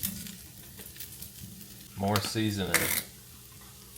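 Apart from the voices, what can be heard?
stirring teriyaki chicken fried rice sizzling in a pan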